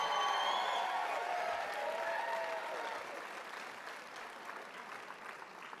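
An audience at a 2023 Canyons District Teacher of the Year awards event applauds the three finalists with a burst of clapping and scattered whoops that fades gradually.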